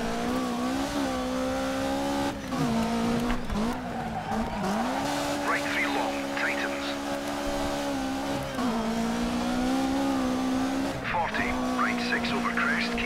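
Race car engine in DiRT 3 holding a steady, loud droning pitch that dips and climbs with gear changes, with tire squeal bursting in repeatedly over the engine as the car slides through corners.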